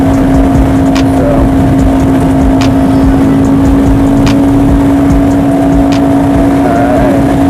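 Steady engine drone of a Honda CBR500R motorcycle while riding, a constant loud hum with a strong tonal whine and rushing wind noise throughout, no talking.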